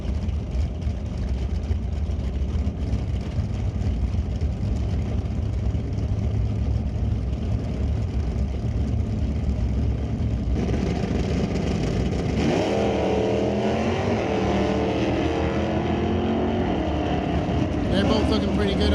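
A 1970 Plymouth Cuda drag car at an NHRA sportsman race, its engine droning loudly and steadily before a harder revving surge near the end, with a track announcer talking over it.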